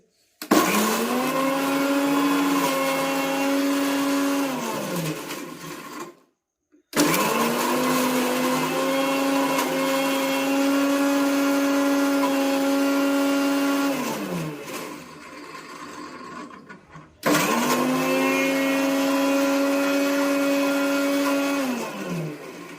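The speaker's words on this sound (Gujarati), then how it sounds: "મિક્સર ચાલો આ ચટણી બની રહીશ ખાલી" An electric mixer grinder blends green chutney made from eleven ingredients, its motor running in long, steady whirring bursts that wind down and stop between runs, loud and close with no talk.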